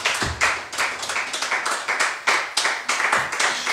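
A church congregation claps together in quick, fairly regular bursts to acclaim the Holy Spirit, loud and close, with no talking over the clapping.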